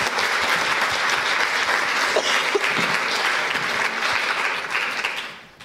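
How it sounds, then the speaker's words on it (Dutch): A crowd claps continuously in dense, loud applause that fades out at the end. "Geef ze een hartelijk applaus."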